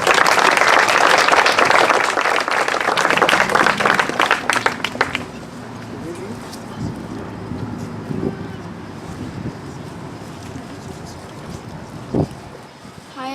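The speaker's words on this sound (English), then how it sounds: "Give them a warm round of applause." An audience applauds young sisters being welcomed, the clapping loud and dense for about five seconds before it stops abruptly, leaving quiet room noise with faint murmurs.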